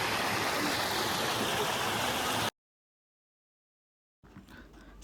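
Loud, dense rushing of a monsoon-swollen stream in the Sahyadri hills near Surgad fort for a couple of seconds, then an abrupt cut to silence before faint outdoor ambience returns.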